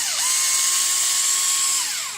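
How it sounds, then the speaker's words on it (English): A number 48 (0.075 in) bit in a power drill opens up rivet holes in the ends of a Shelby Cobra 427 windshield tag, giving a steady, high-pitched whine that holds near and loud, with a brief pitch rise as the drill spins up and a drop as it stops. "I picked up a 75 thou drill bit out of the drill index"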